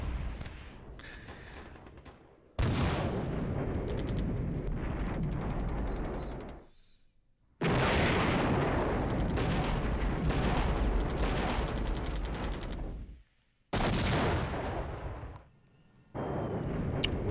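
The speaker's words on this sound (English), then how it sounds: "Was that by the artillery?" Artillery fire in the wargame Flashpoint Campaigns: Southern Storm comes as long stretches of dense, loud rumbling barrage with short near-silent gaps between bursts, and no talking.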